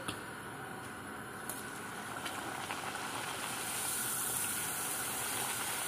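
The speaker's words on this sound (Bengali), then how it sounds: "এইভাবে তেলে ভেজে নিচ্ছি এক এক করে সবগুলো নিচ্ছি এইভাবে ভেজে" Puris deep-frying one by one in hot oil give a steady, dense sizzling hiss that holds at an even level and swells slightly toward the end, with no voices.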